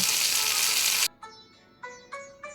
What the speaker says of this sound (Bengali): বাকি মাছগুলোকেও আমি একইভাবে ভেজে তুলে নেব